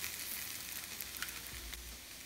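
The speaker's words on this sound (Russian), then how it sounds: "Все жарится." Potatoes and mushrooms fry in a pan with a steady, close sizzle and crackle, a continuous hiss with small pops throughout and no voices.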